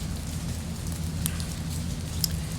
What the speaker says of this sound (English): Rainy day. And I'm out here in the rain.